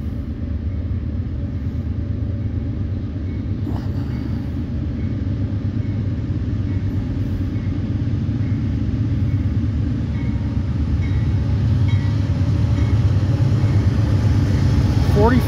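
A northbound Norfolk Southern mixed manifest freight train rolls past on track one, a steady loud rumble of rail cars and wheels that holds close and continuous throughout.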